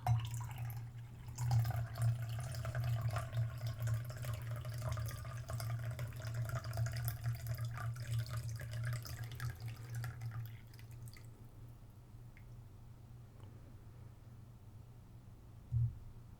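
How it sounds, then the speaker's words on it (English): Tea poured from a kettle into a cup in a quiet, soft-spoken room: a steady close trickling stream for about ten seconds, then it stops, leaving near-silence with one faint clink near the end. "just pour that from the kettle"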